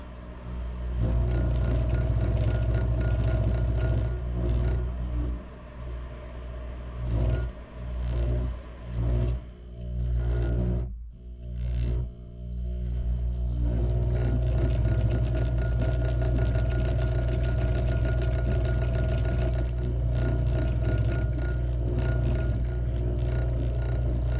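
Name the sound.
electric lathe spinning while wrapping thread on rod guides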